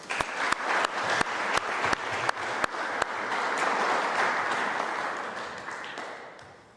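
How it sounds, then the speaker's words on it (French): An audience at a public debate applauds, opening with a regular run of sharp, loud rhythmic claps close by, then swelling into sustained dense clapping that slowly tapers off. "nous pouvons les applaudir"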